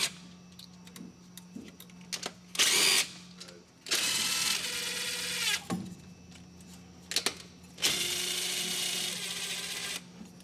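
A hand ratchet or power tool loosens carburetor nuts on an old hot rod during an EFI swap, in short buzzing bursts separated by pauses and small clicks.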